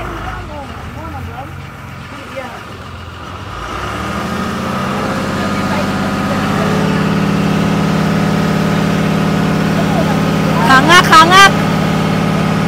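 A large wooden boat's engine idles on Agusan Marsh, a steady low drone that swells after a few seconds and keeps running under people talking and calling out nearby.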